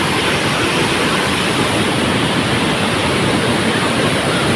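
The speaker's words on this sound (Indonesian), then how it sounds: "Kita melihat di sungainya, kita langsung ke sungai." Steady, loud rush of river water at a campground, a dense broadband roar with no breaks or voices.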